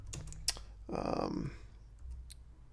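Keys clatter on a computer keyboard in a quick burst of typing, with a few sharp isolated clicks before and after, close and moderately quiet in a room.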